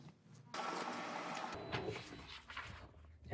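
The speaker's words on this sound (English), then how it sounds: "Let's do a test print." Office multifunction copier printer running a test page, its mechanical whirring and feed clatter starting after a brief quiet moment and continuing steadily at close range with shifting tones.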